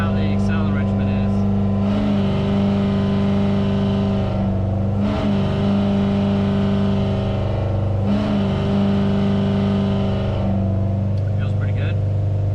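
A Ford F100 engine with Holley EFI, naturally aspirated, runs on a dyno in a steady droning hum, with a few brief throttle blips and swells in revs; loud and close throughout.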